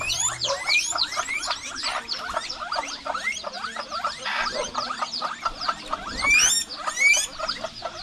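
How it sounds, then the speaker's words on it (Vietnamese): A rat squeaking rapidly and continuously close by, a dense run of high, chirping squeals with a few sharper peaks, no voices. "Chuột đi mất kì."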